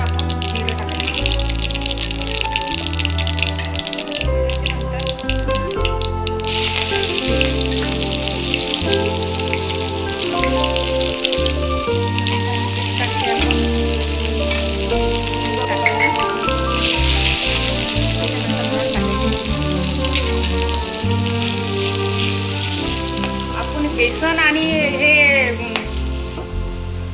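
Cumin seeds, mustard seeds and fenugreek hit hot oil while tempering a Marathi-style dahi kadhi, giving a steady, close, crackling sizzle under continuous music throughout.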